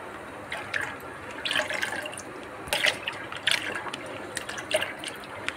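Milk pours into a cooking pot for rava kesari, a close liquid splashing and gurgling in uneven bursts with small clinks of the container.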